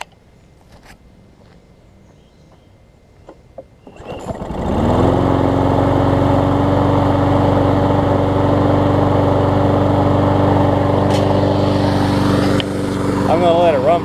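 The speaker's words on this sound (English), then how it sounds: "I'll start it up and show y'all how it runs." A Troy-Bilt self-propelled lawn mower with a freshly repaired carburetor starts after a few seconds and runs at a loud, steady close-up drone. Someone talks before it starts.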